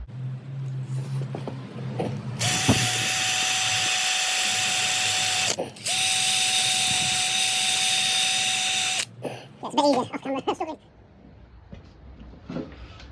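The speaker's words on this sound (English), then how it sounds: "we'll get the wire brush on that" A powered wire brush scrubs a grimy part during a Yamaha Virago 250 motorcycle restoration, whirring loudly and steadily in two long bursts with a brief gap, then stopping before some clattering handling noises.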